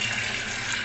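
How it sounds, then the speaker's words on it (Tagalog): Tap water runs steadily over mung beans being rinsed in a kitchen, a brief continuous splashing gush at close range. "So, hugasan muna natin ang ating munggo."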